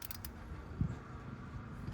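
A ratchet snugging a spark plug into a 2006 Hyundai Tucson 2.7L engine, faint, close mechanical clicking and a brief creak in a quiet garage.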